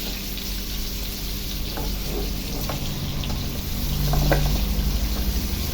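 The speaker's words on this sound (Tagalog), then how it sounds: "dito sa kanyang squeeze na oil, dito tayo gigisa ng mga ingredients." Ingredients sauté in squeeze-bottle oil for pork spare ribs sinigang, giving a steady, close sizzle and crackle that swells slightly toward the end, with no voices.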